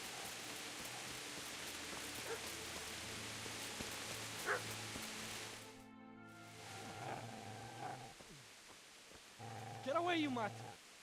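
A dog barking in the video game Kingdom Come: Deliverance, with rain hissing steadily underneath: occasional barks and a louder, whining burst near the end, mixed with character voices talking.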